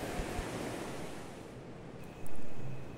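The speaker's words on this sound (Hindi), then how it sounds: "तो गाइज यही है आपकी सरस्वती नदी" The Saraswati river at Kalimath flows in a steady, rushing wash of water mixed with wind noise, swelling into a louder surge near the end, with no voices.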